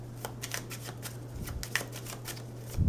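Tarot cards being shuffled by hand at close range, a run of crisp riffling flicks in quick irregular bursts over a low steady hum, with no talk.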